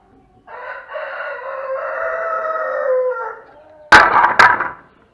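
A rooster crows in a long drawn-out call, followed by a short burst of sharp clucking from chickens nearby.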